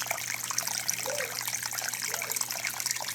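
Pond water trickles into a snail-covered creek filter area with grass, a continuous close splashing dribble over a low steady hum.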